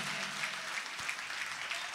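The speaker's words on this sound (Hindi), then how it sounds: "एक बार एक एक व्यक्ति जरा जोरदार ताली बजाकर कविता को बताए कि आप तक वो पहुंच गई है" Steady applause from an audience at a Hindi poetry recital, a continuous patter of many hands clapping at moderate level throughout, with no speech over it.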